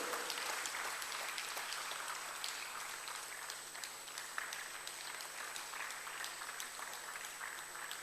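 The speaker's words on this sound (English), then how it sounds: "Everybody put your hands together and give him a well-deserved round of applause." Sustained audience applause at an engineering society's annual sessions, a dense even patter of many hands clapping throughout with no break, fairly faint and steady from start to finish.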